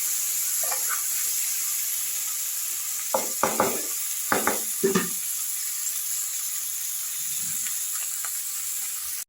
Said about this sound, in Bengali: খুব ভালো করে মশলা আর আলুর সঙ্গে মাছগুলোকে আমি নাড়াচাড়া করে নিচ্ছি